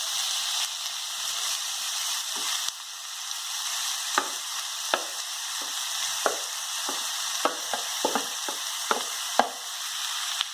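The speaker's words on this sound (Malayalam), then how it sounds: "ഇനി ഗ്രൈൻഡ് ചെയ്ത 4 സവാള അതിലേക്ക് ചേർക്കാം." Ground onions sizzle and fry steadily in hot oil with cinnamon and fennel for a chicken curry, a continuous close hiss broken by sharp stirring scrapes and pops, with no talking.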